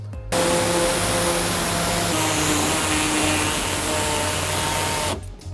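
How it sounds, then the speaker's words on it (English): A pneumatic air saw cuts steadily through the plastic lip of an underbody panel on a 2016 Toyota Sienna. The loud, continuous buzzing whine lasts nearly five seconds and stops abruptly at the end. "we're gonna take our air saw and we're gonna cut off this entire lip."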